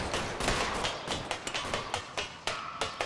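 Rapid volleys of gunfire in L.A. Noire, sharp cracking shots repeating in a loose rhythm over a busy, noisy background, loud and close with no talk.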